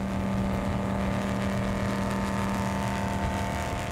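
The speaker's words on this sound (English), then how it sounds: "the GPS in Ken's Cat, with his own Sutton engine's twin 900 horsepower Mercs, hit 120 miles per hour." Catamaran powerboat with twin 900-horsepower Mercury engines running flat out near 120 mph on the Saint John River, a loud constant droning engine roar with a strong sustained tone throughout.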